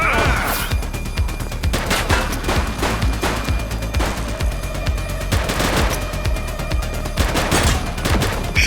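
Rapid gunfire bursts in the police game The Precinct, a dense fusillade of shots and machine-gun fire repeating steadily and loudly for several seconds amid game noise.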